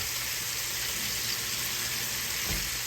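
Shrimp frying in a skillet, a continuous close sizzle that holds even and dense for a few seconds, with a brief low bump near the end and no voices.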